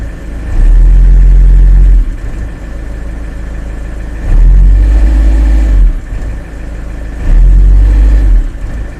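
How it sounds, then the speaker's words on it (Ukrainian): A cold Iveco Daily van diesel engine revs three times in steady bursts, each rising to a loud low roar before dropping back to a rough idle, close by. "газуємо не сильно, бо двигун холодний, щоб прокачалась система"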